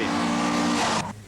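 A Sunbeam rally car on a stage of the 1980 Ulster Rally gives a loud, close engine roar with tyre noise that cuts off abruptly after about a second.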